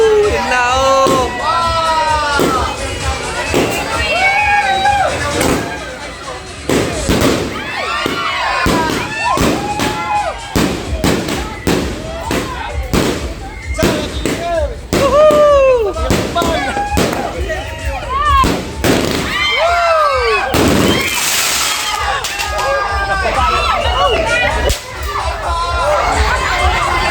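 New Year fireworks bursting one after another, sharp cracks and booming thuds packed densely together, with a crowd yelling and cheering over them and voices shouting throughout.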